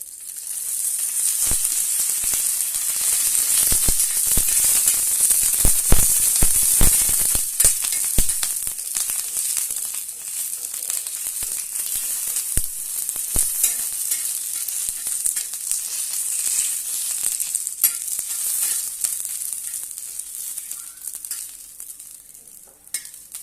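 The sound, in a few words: chillies roasting in a little oil for raw mango thecha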